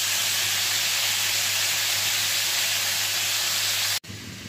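Pointed gourd frying in oil over a low flame gives a steady, loud, close sizzle that runs unbroken before cutting off sharply near the end, leaving a quieter hiss.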